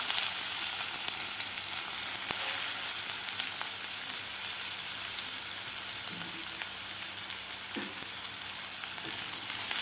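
Chopped onion sautéing in hot oil in a pan for a sprouted masoor lentil usal, a steady close sizzle and crackle running throughout with faint stirring scrapes and no voices.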